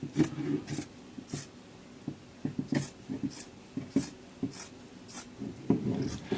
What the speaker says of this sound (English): But I'm just going to cut 3 strips